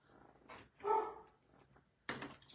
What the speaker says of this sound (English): My dog is in his barking stage again today.